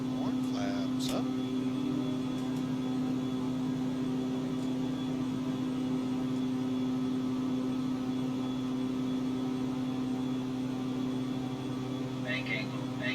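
Steady, droning engine hum of a King Air T44 airplane climbing in the flight simulator X-Plane 12, constant and even throughout, with brief faint clicks near the start and end.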